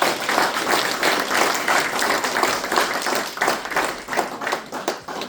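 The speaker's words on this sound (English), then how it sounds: "if we could put a round of applause together for our 3 speakers" Audience at a user group launch event applauding the evening's speakers, steady close clapping from many hands that holds for several seconds and begins to thin near the end.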